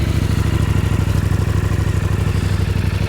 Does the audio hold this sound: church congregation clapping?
no